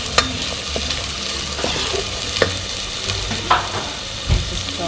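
Onions frying for biryani, sizzling steadily in hot oil with a spoon stirring and scraping through them, clinking and rustling in bursts under a constant crackle.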